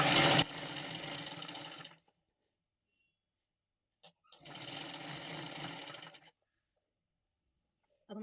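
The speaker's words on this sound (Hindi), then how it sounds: "अब मैं इसको यहाँ से सिलना शुरू कर दूंगी।" A domestic sewing machine stitches a blouse belt in two separate runs of rapid, even mechanical chatter. The runs are close and moderately loud, with silence between them and a brief tick before the second run.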